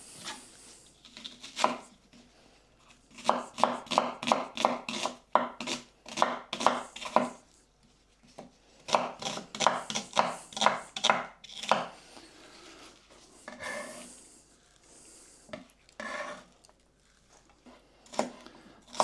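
A knife chops onions on a board for a lamb khashlama cooked without water, close, steady rapid strikes in long bursts with brief gaps, a few softer scraping sounds near the end and no talk.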